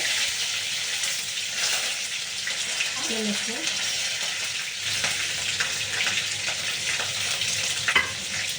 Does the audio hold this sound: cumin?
yes